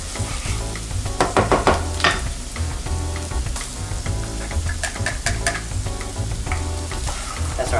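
Onions fry in a pan with a steady, dense sizzle and crackle, loud and close, with occasional stirring clatter and no talking.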